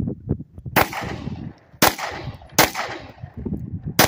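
A Glock 19 or Glock 43 pistol fires outdoors during patterning, four loud sharp shots spaced about a second apart, each with a trailing echo.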